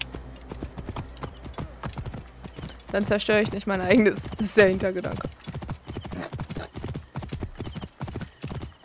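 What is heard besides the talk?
horse hooves clip-clopping in a video game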